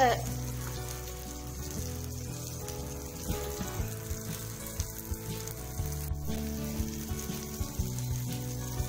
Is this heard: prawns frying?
yes